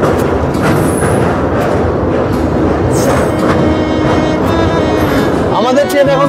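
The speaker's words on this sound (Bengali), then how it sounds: "আমাদের ট্রেন এখন ক্রস করছে কোলাঘাট ব্রিজ, আর নিচ দিয়ে বয়ে চলেছে রূপনারায়ণ নদী," A Howrah to Digha passenger train crosses the Kolaghat bridge over the Rupnarayan river, giving a steady, loud rolling rumble and rattle throughout, with a person talking over it.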